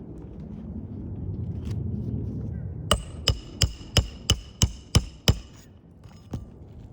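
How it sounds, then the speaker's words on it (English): Hammer strikes drive roof nails flush on the rear slope of a roof: about eight sharp, evenly spaced blows in a quick run, close and loud, after a stretch of low background noise. "we have to go back in with the hammer to make that completely flush"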